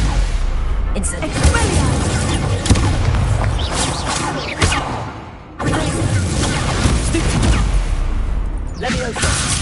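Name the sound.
Incendio fire spell in Hogwarts Legacy video game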